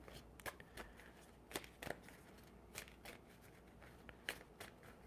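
Tarot cards being shuffled by hand during a reading, giving soft, close riffling and sliding bursts at an irregular rhythm, with crisp snaps between quieter rustles.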